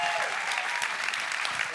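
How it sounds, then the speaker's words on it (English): A live audience at a show applauds, dense clapping filling the whole moment, loud and sustained, with voices mixed faintly underneath. "Give yourselves a round of applause"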